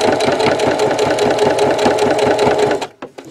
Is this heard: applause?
no